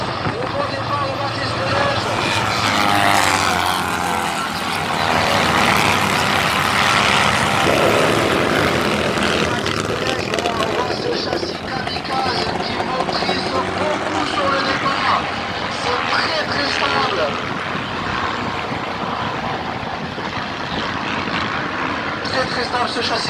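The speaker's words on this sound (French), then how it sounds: "ils ont tous des moteurs 602, moteurs de 2 chevaux" Racing chassis with Citroën 2CV 602 engines roar past at a race start, a loud sustained buzzing engine drone that swells and fades, with a commentator talking over it throughout.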